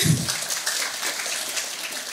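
Audience applause for two speakers at a talk, a short burst of dense, hissing clapping heard close and steady throughout.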